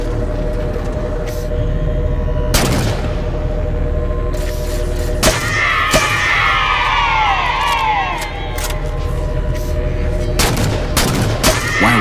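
Rapid gunfire and heavy weapon blasts in the Halo 4 video game, sharp bursts repeating across a dense, loud battle soundscape with a steady mechanical hum underneath and streaking whooshes in the middle.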